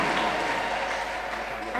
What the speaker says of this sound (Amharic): ከዚህ በላይ እልልታ ከዚህ በላይ ጩኸት ክብር ለናዝሬቱ